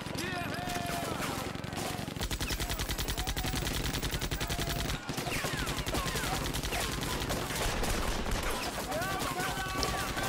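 Dense, continuous gunfire and rapid bursts fill a Company of Heroes battle in Normandy, with rifle shots and machine-gun volleys crackling loudly throughout and no pause in the exchange.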